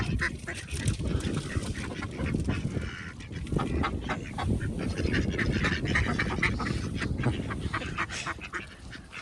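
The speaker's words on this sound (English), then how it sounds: "Oh, the ducks are eating the quinoa." A flock of mallard ducks quacks busily and continuously while feeding on scattered quinoa, the calls overlapping near and loud with a few honk-like notes mixed in, no speech.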